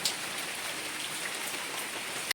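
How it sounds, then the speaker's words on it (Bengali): Heavy rain pours down in a steady dense hiss of drops on surfaces, constant and fairly close before cutting off abruptly. "এত বৃষ্টি হচ্ছে।"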